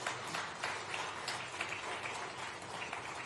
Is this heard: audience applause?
yes